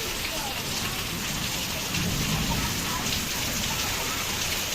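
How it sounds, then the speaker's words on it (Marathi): Steady, heavy May rainstorm pours down continuously, a dense close wash of falling water on surfaces that swells slightly louder midway, with no break throughout. "पाणी बघा मे महिन्यातला पाऊस"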